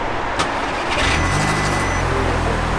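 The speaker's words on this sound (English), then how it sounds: "let me go start the car" An Audi S3 8P engine starting up close: a brief cranking whir catches and fires, rising into a loud, steady idle.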